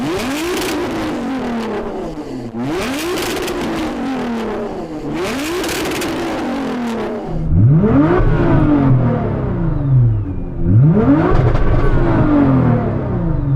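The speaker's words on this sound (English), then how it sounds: "So I'm going to rev up this tuned GTR." A tuned Nissan GTR engine of about 1000 horsepower revs repeatedly, each rise and fall sweeping up and back down, loud and close, with crackling pops between pulls.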